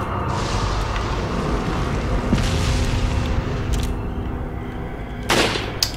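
Gunfire in the Resident Evil 4 video game at Salazar's castle, a dense, continuous barrage of booming shots with one sharper burst near the end, loud and steady throughout with no talking.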